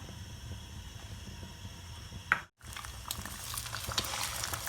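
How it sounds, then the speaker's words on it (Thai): Three eggs are poured into a hot pan to make Thai-style scrambled eggs. A steady, soft bubbling sizzle cuts out for a moment and then comes back louder and brighter as the frying picks up, with no one speaking. "ก็ใส่ไข่เลยค่ะ"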